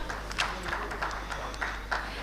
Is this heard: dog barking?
no